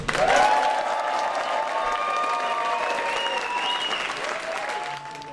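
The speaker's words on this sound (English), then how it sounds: "Big round of applause for Sheila Hickson" A packed house of family, friends and colleagues at the Montgomery College Cultural Arts Center in Silver Spring claps steadily for Sheila Hickson, a full sustained round of applause with scattered cheers and voices mixed in.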